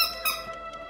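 A squeaky toy for a toy poodle gives one sharp, loud, high squeak followed by a couple of softer squeaks, close up and with no talk over it.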